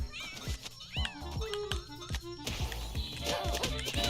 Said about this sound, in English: Wait, am I getting hit by the cat?